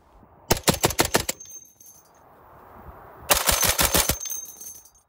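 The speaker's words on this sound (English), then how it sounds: "We decided only to fire five rounds because there's plenty of our other videos where you can see this bout being used" A Vickers machine gun fires two loud, close bursts of about five rapid shots each, separated by a quieter gap with faint background noise, and no talking.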